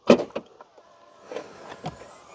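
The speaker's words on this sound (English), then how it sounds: "with the click of this button, you can open the door" A 2017 Volvo V40 D3 Geartronic's doors unlock at the press of a keyless door-handle button, giving a sharp close mechanical clunk followed by softer actuator clicks and a faint whir, with no speech.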